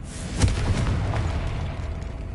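A Confringo blasting spell goes off in Hogwarts Legacy: a single sharp burst early on, followed by a rolling, crackling rumble that fades out, loud and close with no talking.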